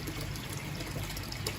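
Pond water mixed with a spoonful of fry powder pours through a strainer over a koi breeding pond, a steady soft trickle and splash running throughout at low level with no talk.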